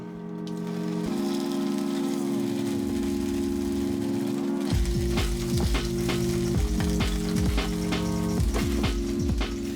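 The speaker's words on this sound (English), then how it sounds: "Once your oil's hot, we'll stir fry our tofu." Tofu dropped into hot oil in a pan for Okinawan goya champuru, a quiet steady hum at first, then a loud crackling sizzle with rapid spattering pops and stirring scrapes that keep going.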